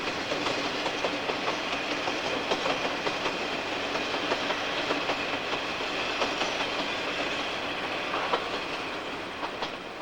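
A train runs along a railway through flat Hokkaido farmland, sounding as a steady, loud rolling rumble with repeated clickety-clack from the wheels on the rails. It holds even for the whole stretch and eases off slightly at the end.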